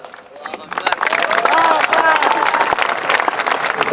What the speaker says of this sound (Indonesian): Ragu-ragu tepuk tangan macam belum makan.